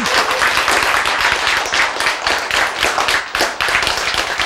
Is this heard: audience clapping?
yes